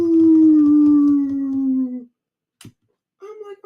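A dog howls loudly and close, one long sliding wail that falls slightly in pitch over about two seconds, followed by a brief silence, a short sharp noise, and another quick howl or whine starting at the end.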